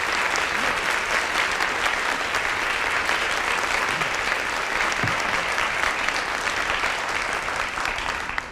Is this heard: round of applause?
yes